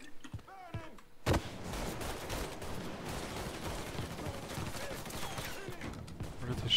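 Gunfire crackles in the Mafia III: Definitive Edition video game, a sustained dense burst after a loud opening shot, mid-distance and steady, with a voice heard briefly at the start.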